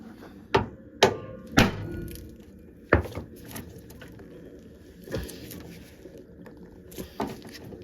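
A screwdriver is struck sharply to loosen a screw on an Austin Mini, with several loud separate metallic whacks spaced irregularly and close by, then quieter knocks.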